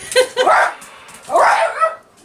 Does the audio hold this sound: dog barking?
yes